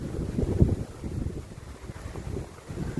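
Strong wind buffets the microphone outdoors in a Cape Coral, Florida parking lot, a low irregular rumble rising and falling in gusts with no talk.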